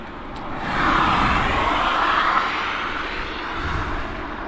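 Steady broadband whine and rumble of an aircraft auxiliary power unit running at East Midlands Airport, a continuous, moderately loud hum that swells slightly and holds without break, with no voices.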